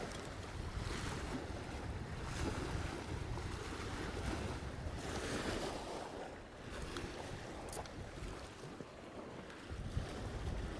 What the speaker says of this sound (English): Could just be the waves.